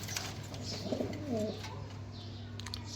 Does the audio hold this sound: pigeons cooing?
yes